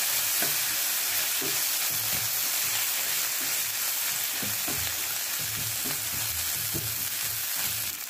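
Sauces being stirred into a hot pan for paneer chilli ghee roast, with steady close frying sizzle and repeated scraping stir strokes throughout, no talk.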